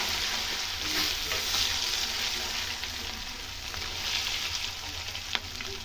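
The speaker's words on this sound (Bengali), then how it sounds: "এরপর ভালো করে একটু নেড়ে দেবো।" Loud, dense sizzling of cabbage curry spices, hing and crushed ginger frying in hot oil, heard close and continuous while being stirred, with a faint scrape near the end.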